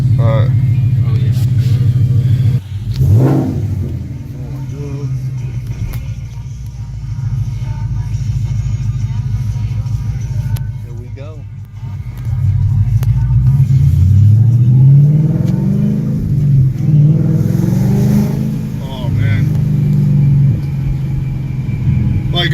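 A 2015 Ford Mustang GT Premium Track Pack with an SVE stage 2 exhaust runs with a deep, steady low rumble that swells into a revving rise midway, loud and close, while people talk over it.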